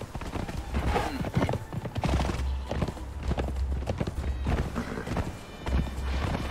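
Horse hooves clip-clopping in a steady rhythm while riding in the video game Conan Exiles, close and fairly loud over a low game ambience, with an occasional whinny.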